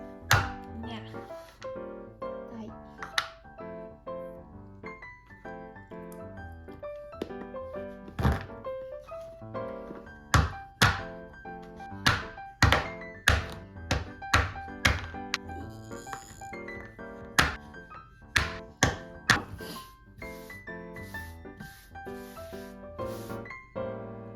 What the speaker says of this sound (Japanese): 包丁の力を借りてなんとか砕きました。